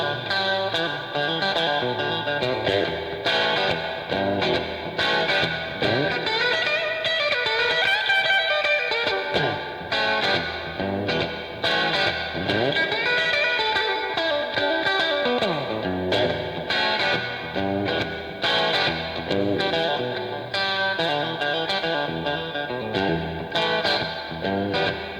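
An album plays continuously: distorted electric guitar and band soaked in heavy echo effect, loud and dense throughout, with no talking over it.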